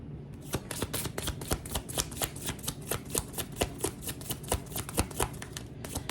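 Tarot cards riffled and shuffled for a reading, a steady run of crisp, close flutters and snaps repeating rhythmically with no talking.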